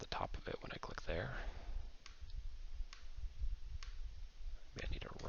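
Computer mouse clicks, a handful of sharp, brief ticks spaced apart at close range, heard under and between a person talking.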